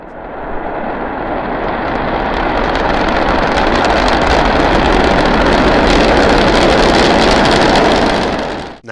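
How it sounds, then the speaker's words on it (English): SpaceX Starship SN9 at launch, its three Raptor engines producing a loud, continuous broadband roar that holds steady for several seconds before cutting off abruptly. "Its 3 Raptor engines roared to life, and it was propelled upwards into the sky"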